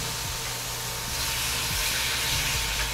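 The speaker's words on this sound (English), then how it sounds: "We're just gonna put it in the pan here." Marinated beef bulgogi sizzles steadily in a smoking-hot pan, a continuous bright hiss with close crackle and no talking over it.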